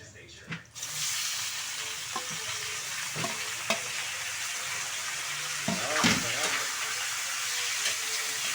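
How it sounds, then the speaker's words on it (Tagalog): Squid frying in a pan with garlic for adobo, a steady sizzle with occasional stirring clinks and scrapes from a utensil, close and constant throughout. "Mga kabayan, nilagay ko na rin yung bawang. Okay mga kabayan, nilagay natin ang pusit."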